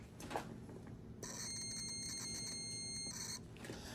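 A multimeter set to continuity gives a sustained electronic beep of about two seconds while testing fuses on a Ford F150, close and clear, with no talk.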